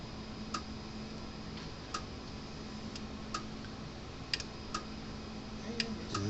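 Parmak Magnum 12 electric fence charger, model MAG 12 U.O., under repair, giving sharp, regular clicks about once a second over a steady hum, the pulses faint but distinct.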